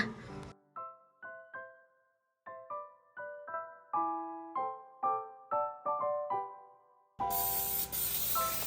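A can of olive oil spray releases a brief, loud, steady hiss at the very end, right after a light plucked melody of separate notes plays with gaps.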